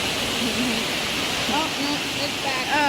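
A river flowing through a forest, a steady broad rush of water filling the whole clip with faint high voices and squeaks drifting over it.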